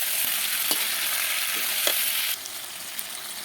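Meat hits a hot frying pan and gets stirred, giving a steady broadband sizzle with a few soft scraping knocks of the utensil; the sizzle drops slightly in level partway through.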